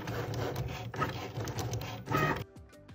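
A Cricut Maker 3 cutting machine runs nearby, a steady mechanical whirring and buzzing with small shifts in pitch, then stops abruptly near the end.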